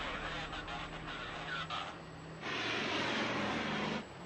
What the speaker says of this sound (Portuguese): Potência para decolagem, por favor.